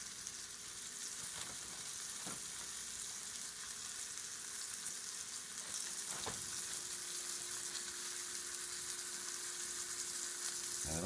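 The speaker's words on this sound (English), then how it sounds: "lay the meat pieces in the warmed oil in the skillet" Steak tip pieces for a beef and mushroom pie browning in warmed oil in a skillet, a steady broad sizzle with a few light scrapes and clinks of stirring, close and continuous, without talking.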